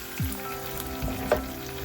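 Miso frying and sizzling in a pan on a home stove, a steady close hiss with a few brief spatters and stirring knocks, no voices.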